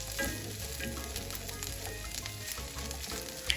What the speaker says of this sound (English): We're going to start off by sauteing our peppers.